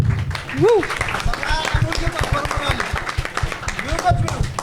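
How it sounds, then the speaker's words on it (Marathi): A comedy-show audience applauds for the next performer, a dense patter of clapping at moderate level with voices and whoops mixed in. "पुढच्या परफॉर्मरसाठी जोरदार टाळ्या"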